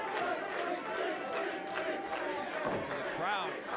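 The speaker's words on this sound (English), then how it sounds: "this is a boxing crowd here in the ballroom that knows a good fight" A boxing crowd in a ballroom cheers and shouts during a fight, a dense, continuous wall of voices with individual yells rising out of it, close and lively.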